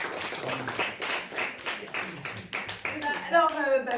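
Audience in a theatre show applauds, a burst of hand claps spread across the room for about four seconds, moderately loud with a few voices mixed in.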